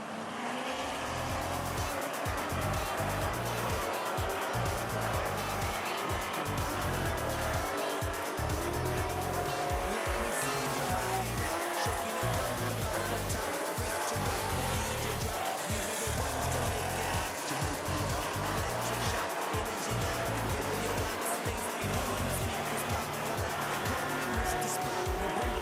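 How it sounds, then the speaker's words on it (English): Race cars in an AMCA event at Rockhampton Speedway roar steadily around a loose dirt track, engines loud and continuous with rising and falling revs as cars pass, plus occasional tyre noise. "You can see the cars rolling around the top side, trying to squash in all that loose dirt up the top of the track."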